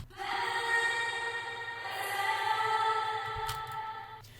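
A music mix where a long atmospheric reverb is layered over the main reverb, giving a sustained, spacious wash of tones that holds steady at moderate level for several seconds, with a brief brighter swell near the end.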